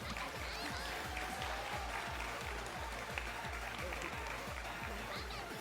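Applause at a live esports tournament grand final rises as a broad wash of clapping over a steady, thumping music beat that pulses throughout.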